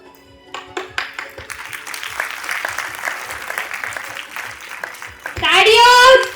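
An audience at a school annual day event breaks into applause, building from scattered claps into a dense, steady clapping. Near the end a loud tonal whine cuts in over the clapping.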